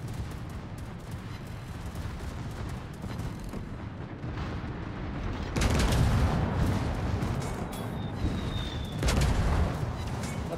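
Bombs going off in a video game air raid, a sustained rumbling barrage of heavy blasts that swells louder midway, with a thin whistling streak near the end and no talk.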